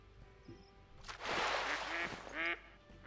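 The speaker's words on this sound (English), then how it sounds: "That's a level 2 mallard." Mallard duck in a waterfowl hunting video game, several nasal quacks in quick succession, rising to a louder burst mid-clip over a quiet outdoor backdrop, with no talking.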